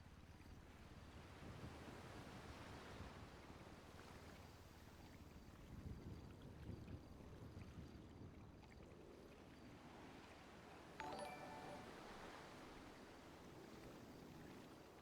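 Ocean waves washing in a steady, continuous surf with wind buffeting the microphone, fairly loud and alone, with a brief sharper splash or clatter near the end.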